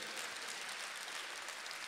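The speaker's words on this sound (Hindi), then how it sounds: "हाँ, अब बजाएंगे ताली जिसके समझ में आ जाएगी।" An audience claps steadily through a Hindi comedy poetry gathering (hasya kavi sammelan) held in a stadium, a dense, even wash of applause that sounds distant and fairly faint, with no voices rising above it.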